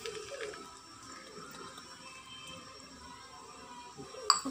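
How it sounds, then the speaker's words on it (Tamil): Water trickles and splashes as it is poured into a potato gravy of mashed potatoes cooking in a pan, a soft, steady close-up pour with a brief louder clink near the end. "தேவையான அளவு தண்ணி"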